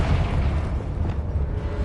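A Confringo blasting spell explodes in a Harry Potter game, a short, dense, rumbling boom that fills the whole brief moment at steady loudness.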